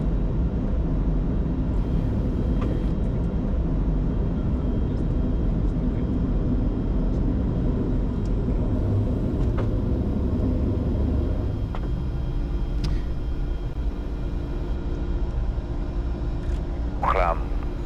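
Twin engines of a Challenger 605 business jet climb out after take-off from Luang Prabang, a steady loud cabin roar and rumble throughout, with faint cockpit sounds and a brief chirp near the end.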